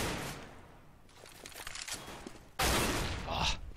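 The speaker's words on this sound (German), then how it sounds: "schöner Schuss von Aero." Bursts of Counter-Strike gunfire crackle in quick volleys on the map de_nuke, with a louder sharp blast near the end.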